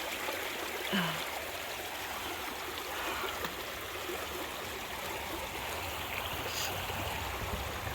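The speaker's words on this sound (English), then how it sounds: "Look how fast that water is moving underneath it." Fast stream water rushes beneath a log across the stream on an Appalachian Trail crossing, a steady, loud, broadband roar with no break, and no talking over it.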